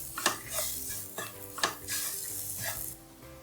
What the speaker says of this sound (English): Mix that in.